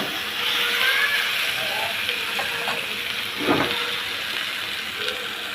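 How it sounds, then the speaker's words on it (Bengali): Beef frying in a pan over medium-low heat gives a soft continuous sizzle, with a short scrape of stirring midway and faint crackles, no voices. "আগে থেকে গোশতগুলা তুলে রেখেছি, এটি এখন ভালো করে ভেজে নিব মিডিয়াম লো আছে"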